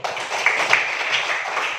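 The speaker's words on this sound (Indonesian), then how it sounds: "mari kita berikan tepuk tangan yang mulia" An audience applauds in a classroom, with a short, dense burst of many hands clapping close by at a fairly loud level and no talk over it.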